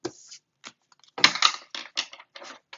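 Large oversized oracle cards are shuffled by hand in a few uneven papery riffles and slaps, close and fairly soft, with no talking.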